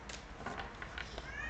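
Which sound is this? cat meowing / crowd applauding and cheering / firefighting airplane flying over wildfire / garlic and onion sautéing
cat meowing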